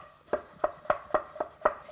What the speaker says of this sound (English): And give it a nice chop.